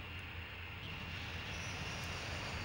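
A plane engine roars past in the video game Ace Combat 3: Electrosphere, heard as a steady, low, hissing drone that stays fairly even throughout.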